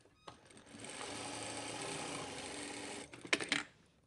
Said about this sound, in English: Sometimes we don't need to overlock the edge, so we would just sew the edges together